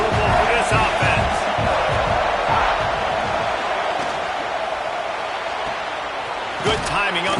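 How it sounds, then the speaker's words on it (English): Constant roar of a packed stadium crowd in a College Football 26 game, South Carolina against an FCS opponent, a loud steady wash of noise under a commentator's voice. "This crowd trying to make life miserable for this offense."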